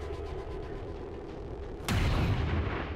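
An explosion in the video game XCOM 2 booms in suddenly partway through, a loud broadband blast that rolls out over a steady background of game ambience.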